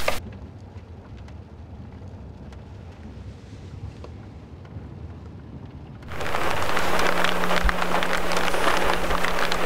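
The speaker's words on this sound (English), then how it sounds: "And that rain's making it hard to see anything." Rain falling at a high mountain lookout during an elk hunt, a soft, steady patter at first that swells abruptly into a louder, denser wash of rain and wind noise partway through, with no voices.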